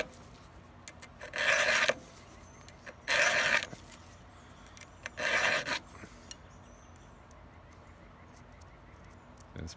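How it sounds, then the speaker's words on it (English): A hand file rasps across the chain of a 35-year-old chainsaw during sharpening, three steady scraping strokes of about a second each with short pauses between, close and clear over a quiet background. "You kind of give your file a twist so you get a different spot every time"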